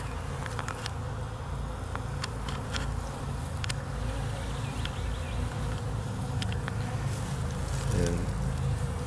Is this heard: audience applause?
no